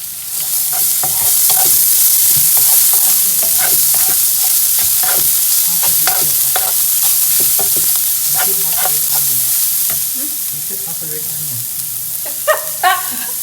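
Red onions cooking in oil in a pan, a steady sizzle under repeated scraping and stirring strokes of a utensil against the pan, close and fairly loud, fading slightly toward the end.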